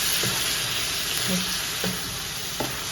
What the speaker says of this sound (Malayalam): കുറച്ച് ചുടുവെള്ളം അതാണ് ഒഴിച്ചു കൊടുക്കുന്നത്